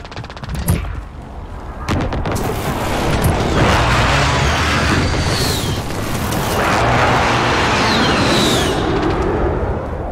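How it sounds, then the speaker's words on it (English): A precision airstrike in a first-person shooter video game, heard as a rapid burst of sharp gunfire-like cracks followed by a long, loud, rumbling roar of explosions and blasts with whistling streaks. "Friendly precision airstrike on the wing."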